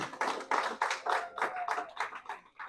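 A church congregation clapping together in rhythm during an evangelistic service, regular unison bursts of hand claps about twice a second, fairly close and clear with no talking over them.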